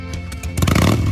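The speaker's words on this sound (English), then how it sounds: "Now let's hear them engines." Engines revving at an event, a rough idling rumble that surges louder partway through into a throaty roar, fairly close, with no voices over it.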